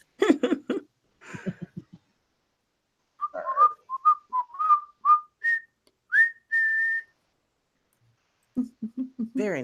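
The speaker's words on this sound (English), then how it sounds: "Very nice whistling." A person whistles a short song melody, a string of clear pitched notes rising and holding, with brief talk and chuckling before and after the tune.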